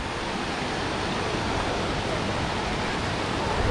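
Broad, steady rush of falling and splashing water from the Trevi Fountain in Rome, a continuous even wash heard up close with no break and no voices.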